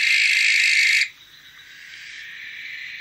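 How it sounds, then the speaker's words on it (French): A harsh, hissing screech, typical of a barn owl, sounds loud and close for about a second, then drops to a faint, lingering hiss. "Les chants des effraies n'ont rien à voir avec les autres nocturnes."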